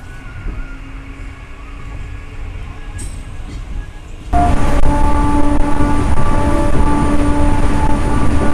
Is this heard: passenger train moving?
yes